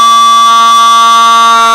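A wind instrument sounds a single low C, steady and sustained at strong volume for under two seconds, with a clear harmonic tone and no talking.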